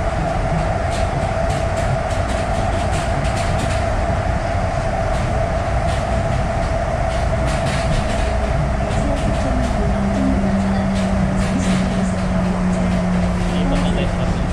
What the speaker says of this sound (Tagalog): The train will soon arrive at the terminus.